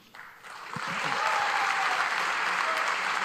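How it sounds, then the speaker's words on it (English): Applause from the crowd at a disc golf players meeting swells within the first second and holds as a dense, even wash of clapping, fairly distant and moderately loud. "make sure you guys give them a big round of applause"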